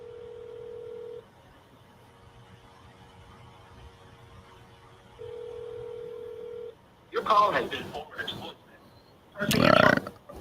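Outgoing phone call: several DTMF dialing tones sound as steady beeps, then a ringback tone repeats in a slow on-off rhythm, followed by louder bursts of noise near the end.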